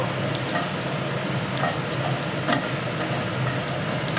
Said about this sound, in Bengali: এবার ফোড়নটা আমি একটুখানি ভেজে নেব।